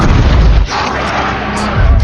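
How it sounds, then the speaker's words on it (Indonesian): A film explosion destroying a Russian submarine under Arctic ice, a loud, deep boom that rumbles and then settles into a sustained low roar without any voices. "Keheningan pecah saat kapal Rusia tersebut tiba-tiba hancur oleh ledakan internal yang misterius."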